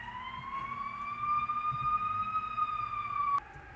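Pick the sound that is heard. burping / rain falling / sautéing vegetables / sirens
sirens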